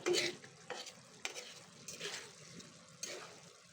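Prawns being stir-fried dry with garam masala, a soft sizzle broken by several quick scraping stirs of a spatula against the pan, fairly quiet and close.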